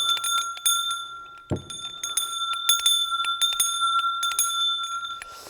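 A homemade bell made from a fire extinguisher bottle with a bolt clapper rings repeatedly in an irregular pattern, each strike leaving a bright, sustained metallic ring, with one dull thump partway through.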